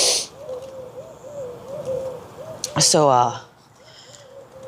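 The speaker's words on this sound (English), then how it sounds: "They're like going to town over there. Like all the birds are going." Many birds call outdoors in the morning, a repeated soft cooing hoot running steadily in the background with scattered chirps, briefly interrupted by a loud close clatter and a short spoken word.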